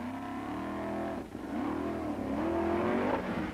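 Rally cars climbing a steep hill at an Akranes event in 1996, with an engine revving hard and rising in pitch, briefly easing off, then straining upward again, loud and sustained with no talking.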